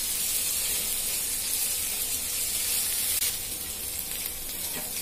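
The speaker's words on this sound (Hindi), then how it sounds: "अब मैं इसी में डालूंगी कड़ी पत्ता और एक हरी मिर्च अखाई डाला है। थोड़ी देर इसको और भूनूंगी।" Onion frying in hot oil with curry leaves and a green chili, a steady, dense sizzle and hiss at close range that holds throughout with no talking.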